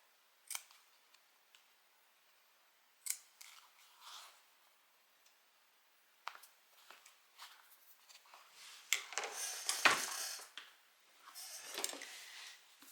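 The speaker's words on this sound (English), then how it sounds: "Just going to make a few little triangle cuts." Scissors make quiet, crisp snips through fabric, cutting small triangles, a few isolated cuts at first, then a faster flurry of clipping near and soft, with no talking.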